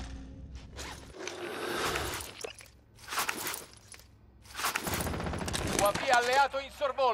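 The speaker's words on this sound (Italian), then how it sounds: "Mi stanno sparando!" Bursts of gunfire in a Call of Duty Warzone match, several loud rapid volleys separated by brief lulls, mixed with mechanical clatter and a voice speaking over part of it.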